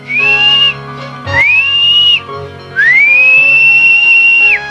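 Three shrill whistle blasts, the second short and the last long and steady, each rising sharply at the start, loud and close with no talking.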